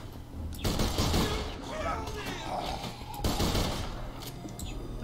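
Gunfire in the video game Borderlands 2, with broadband bursts and rattling volleys across the clip, heaviest near the start and again past the three-second mark, mixed with game effects and a busy din.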